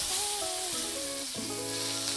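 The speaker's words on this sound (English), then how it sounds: "Get them sauteed down really nice on medium to low heat" Onions sauteing in a pan over medium to low heat give a steady close sizzle and crackle, with a tonal hum running underneath and no talking.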